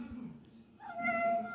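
A pet cat lets out a single drawn-out, rising meow close by, preceded by a brief low murmur and faint background noise.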